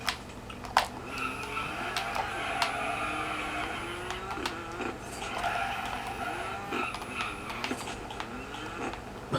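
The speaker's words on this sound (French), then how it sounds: "Le dérapage que je fais." Car skidding in the Dirt 4 rally video game, a continuous rumbling slide with gravelly scrape and engine drone at steady loudness, with small clicks and bumps scattered through.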